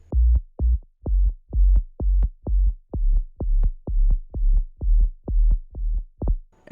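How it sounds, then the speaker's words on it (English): Clean synthesized sub bass for an NCS-style electronic track, a deep sidechained pulse of short, rounded low notes repeating evenly about twice a second, loud and alone. "we have a clean sub bass that sounds like this"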